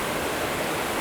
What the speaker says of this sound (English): the rocks, that sound of the water